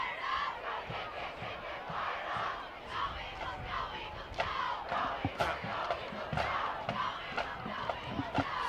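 Eagle fans in the stands at a high school football game cheer and chant together in a loud, sustained crowd roar with rhythmic shouted bursts, heard from a distance.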